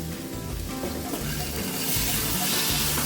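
Chopped tomato with salt and turmeric sautéing in a pan, a continuous sizzle with rhythmic stirring and scraping that grows brighter and hissier toward the end.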